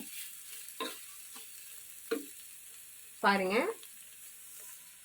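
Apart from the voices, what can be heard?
carrots cooking and stirred with sugar for Ashoka sweet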